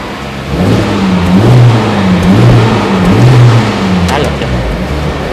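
A 2023 Honda Civic Type R engine revving while parked, rising and falling in repeated pulls held back by a rev limiter, loud and close, with people talking alongside.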